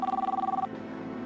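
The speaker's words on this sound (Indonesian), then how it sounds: "Sebentar ya saya angkat telepon ya." A telephone rings with a fast, warbling electronic trill that pulses rapidly for about half a second and then cuts off, leaving a quiet indoor hum. It is fairly faint and no one speaks over it.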